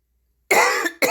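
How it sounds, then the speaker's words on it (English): Two close harsh smoker's coughs, the first a longer raspy burst and the second short, loud and near after a moment of silence. "When I'm coughing, it's never from a cold or anything like that."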